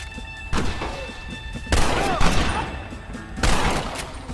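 Gunfire in the Red Dead Redemption video game on PS3: several loud, close shots in bursts with long ringing tails, repeated across the moment.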